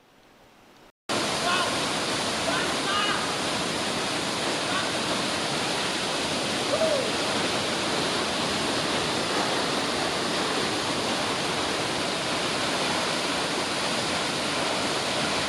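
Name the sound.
twin waterfall rushing water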